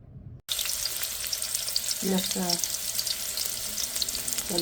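A kitchen tap runs steadily over snakehead fish being washed, a close, continuous hiss of water after a brief silent start, with a few short clinks and splashes.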